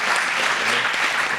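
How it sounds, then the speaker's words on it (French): Audience applause fills a theatre hall at an event with writer Sylvain Tesson: steady, dense clapping from a crowd, loud and continuous throughout without a break. "on peut les remercier avec des applaudissements"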